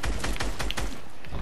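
Gunfire from players shooting in a video game, a rapid burst of about seven heavy, evenly spaced shots followed by a brief, thinner rattle of fire.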